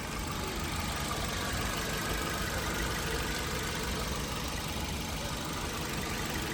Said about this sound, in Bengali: ইঞ্জিনের সাউন্ডটা শুনুন।